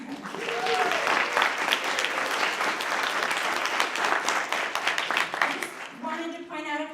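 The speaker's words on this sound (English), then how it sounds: "So now we can all clap." A seated audience at an artist talk claps together in a dense, sustained wash of applause that holds steady for several seconds, with a voice starting to speak as the clapping fades at the end.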